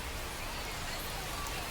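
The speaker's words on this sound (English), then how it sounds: "We'll see how well the field holds up with the way the rain is coming down" Steady rain pours down on a baseball field during a minor-league Iron Pigs game, making a dense, even hiss that holds without a break from start to finish.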